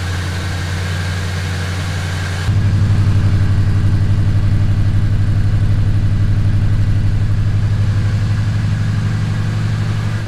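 A 1977 Chevy C10 engine idles steadily and smoothly after a valve lash adjustment with new rocker arms and pushrods, its low hum stepping up in level a couple of seconds in and then holding an even, continuous drone, with no talking.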